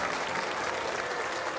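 Thunderous applause from a large crowd, a dense continuous roar of clapping that stays steady and loud throughout the short stretch, with no voices standing out.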